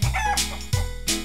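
A hen gives a few short, clucking calls in quick bursts, close and fairly loud, with no voices present.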